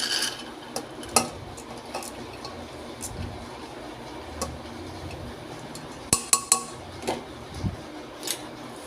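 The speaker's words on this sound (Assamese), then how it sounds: "এতিয়া এটা প্ৰেছাৰ কুকাৰত মই দাইলখিনি লৈ ল'ম।" Soaked chana and toor dal being tipped into a pressure cooker in a home kitchen, with scattered metallic clinks and taps of utensils against the pot over quiet background hiss, with a small cluster of sharper clanks toward the end.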